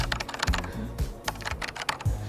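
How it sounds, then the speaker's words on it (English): Someone types steadily on a computer keyboard made for Mac, producing a close, clattering run of key presses with uneven rhythm and some deeper thocks on heavier strokes, with no voice over it. "If you like the sound of this keyboard, give this video a like."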